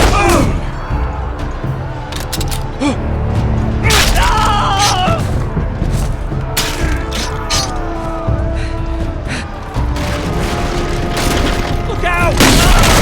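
Battle gunfire in the Game of Thrones Telltale game's Red Wedding episode: loud booms and shots mixed with clanking, dense combat noise and shouting voices throughout.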